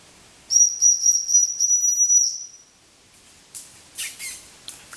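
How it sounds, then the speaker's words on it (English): A loud, shrill dog-recall whistle in the woods sounds as a series of quick pulsed blasts over about two seconds, followed by a few short, breathy hissing bursts. No one speaks. "Coming to the whistle, like a good girl."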